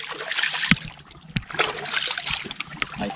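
Water splashes and trickles as a caught fish is let back into Castaic Lake, with a few sharp slaps against the surface among steady lapping and rustle close by, under occasional voices.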